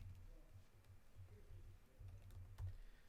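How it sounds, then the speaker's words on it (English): Soft, faint tapping on a computer keyboard as a project name is typed in, a quiet run of keystrokes over a low background hum. "And I think, Katrina, you're going to type for me here."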